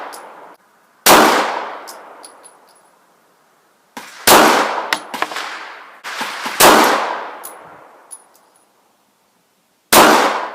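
A Springfield XD9 pistol firing Fiocchi 115 grain 9mm rounds outdoors, sharp loud shots in uneven groups of one to three, each followed by a long ringing decay, with clinking casings between strings.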